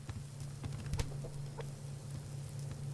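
A chicken clucks in the survival game Subsistence, giving short, fairly faint clucks over a steady low hum.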